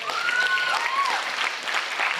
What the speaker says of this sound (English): Applaud furiously.